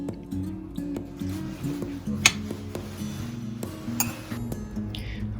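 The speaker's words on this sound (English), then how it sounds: "I usually stir it a little bit right before I finish." A spoon stirs ginger tea in a pot, making clinks and light knocks against the side over a steady low hum, with a few bright taps standing out.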